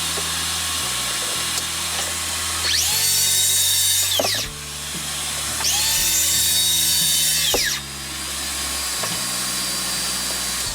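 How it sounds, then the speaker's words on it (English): A handheld circular saw cuts a panel to size on a crosscut jig, making two loud, whining passes of roughly two seconds each, spinning up and winding down between them, with a low motor hum and no talk. "I took out my crosscut jig and my handheld circular saw and cut the panel to size"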